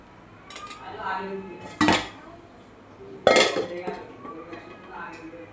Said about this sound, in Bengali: এখন আমি সিদ্ধ হওয়া পর্যন্ত ঢাকনি দিয়ে ঢেকে রেখে দেব।